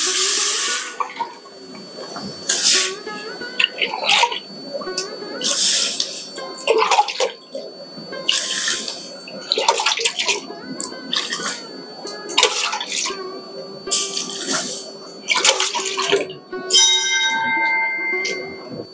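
Water pours steadily into a pot holding sugar to make rasgulla syrup, a continuous splashing gush broken by brief pauses, with someone talking over it.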